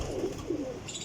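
Pigeons coo in a loft, a few soft, low, throaty coos close by, with no voices.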